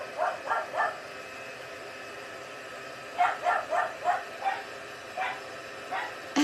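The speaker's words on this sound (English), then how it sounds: "And then there's us as neighbors with the barky dog." A barky dog lets out short, muffled barks at a moderate distance, first a quick group of three, then a longer irregular run after a pause.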